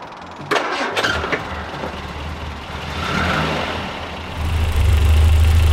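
A Rover P6 car engine cranks with a few quick starter bursts, catches, and settles into a steady, loud idle rumble close by, growing fuller toward the end; it is started to check for a coolant water leak.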